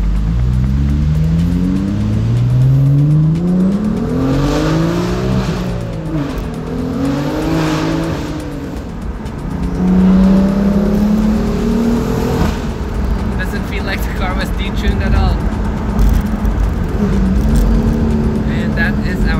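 BMW M4 accelerating hard on a highway, the engine pulling up through the revs in long rising sweeps with gear changes between them, loud and close from inside the car throughout.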